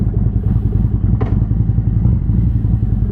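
A Harley-Davidson Road Glide CVO with a 2032 cc Stage IV engine and a full Vincent exhaust rides along with a close, loud, throbbing rumble. A brief clatter sounds near the middle.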